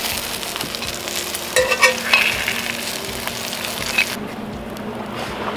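Homemade cured bacon fries in a pan over a live fire, a steady close sizzle and crackle with a few louder pops and stirring clatters, then the sizzle drops lower near the end.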